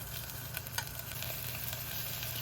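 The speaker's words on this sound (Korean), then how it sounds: "그리고 소고기를 먼저 볶아요." Beef sizzles steadily in olive oil and sesame oil in a hot pot, a constant crackling fry with occasional sharper pops, close and moderately loud, with no voices.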